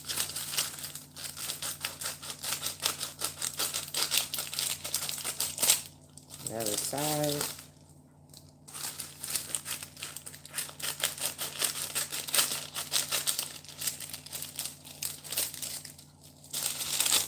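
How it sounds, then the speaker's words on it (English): Kitchen scissors snip along the edges of freezer paper during burger patty and meatball prep, giving repeated crinkling, cutting and rustling sounds close by, with a brief spoken phrase midway. "But I'm taking these kitchen scissors and along the edges,"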